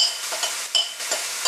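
Spice and soup powder stirred into cooking vegetables for simple boiled vegetables, a steady sizzle with soft scraping strokes of a spoon at close range, no voices.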